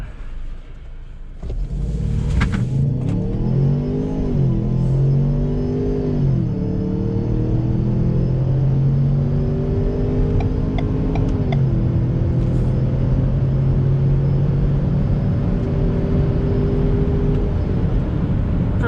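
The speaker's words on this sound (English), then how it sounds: "I think that gives you a good idea of what the acceleration's like in this car and what it sounds like" Ford Bronco Sport Badlands accelerating hard from a rolling start, its engine note climbing through several gear shifts with rising and dropping pitch, heard from inside the cabin with no talking.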